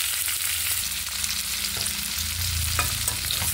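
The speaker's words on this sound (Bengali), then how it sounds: "এবারে ওই তেলের মধ্যে একটা তেজপাতা, সামান্য গোটা জিরে, এবার কুচিয়ে রাখা" Chopped onion sizzles steadily in hot oil with a bay leaf and whole cumin seeds for a prawn and pumpkin curry, a constant close frying hiss with occasional stirring clinks and scrapes, no voices.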